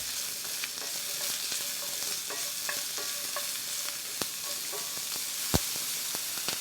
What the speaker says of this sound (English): You add white onions, stir it,